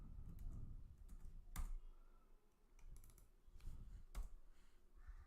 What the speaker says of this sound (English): let me type some HTML code